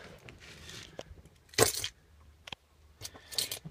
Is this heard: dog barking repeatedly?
no